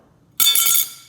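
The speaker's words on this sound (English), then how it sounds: "I think all metal cards should sound like this." A single bright metallic clink from an Apple metal credit card rings out, sharp and close, then fades quickly into quiet.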